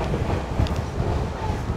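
A passenger train running along the beach at Kalutara, Sri Lanka, heard from on board as a loud, steady rumble and rattle of the carriages with rushing wind.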